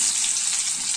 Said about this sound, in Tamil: நம்ம பூண்டு சேர்ந்ததுக்கப்புறம் வெங்காயம் போட்டு வெங்காயம் நல்லா வதங்கட்டும்.